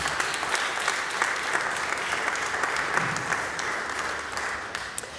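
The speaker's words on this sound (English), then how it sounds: "So I think we should give them some applause," Steady, full applause from an opera audience after a premiere talk for La traviata, dense clapping sustained throughout with no voices over it.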